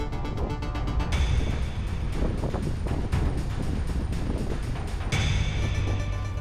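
A Pershing GTX 80 performance yacht cruises on a calm sea off the Ligurian coast near Genoa at dawn, its steady engine rumble and water rush continuous and fairly close, with no voices.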